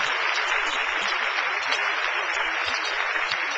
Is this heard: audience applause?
yes